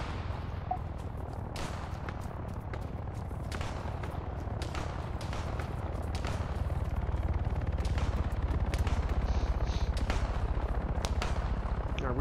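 Gunfire in the military video game Arma 3 during a King of the Hill match: dense, rapid shots and bursts crackle continuously over a steady low rumble, growing slightly louder toward the end.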